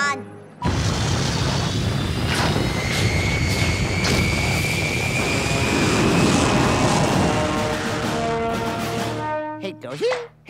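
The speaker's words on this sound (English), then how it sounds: "Primary thruster ignition in 5, 4, 3, 2, 1." Primary thruster ignition on a spacecraft in a TV episode, a sudden loud roaring rush that swells and sustains with a rising whine, then fades into brief voices at the end.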